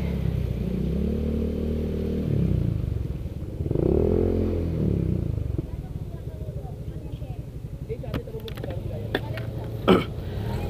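Motorcycle engine running low and steady while the bike rides into deep water, a rumbling drone with some surging, partly under people talking nearby.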